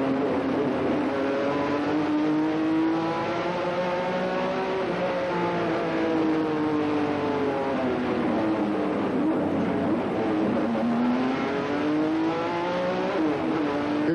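A stock car engine at Hickory, heard from inside the car, drones loud and steady as the revs climb, dip with a gear shift, then build again, with no talking.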